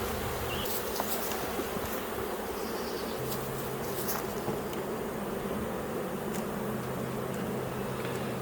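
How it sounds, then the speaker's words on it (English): Honeybees swarm in an open beehive during a super and excluder change, giving a dense, steady buzzing drone that holds evenly throughout, close and moderately loud with no talking. "There's a lot of bees in here."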